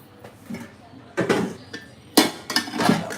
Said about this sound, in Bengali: আমি এখন একটু চালটা ধুয়ে দিয়ে নিই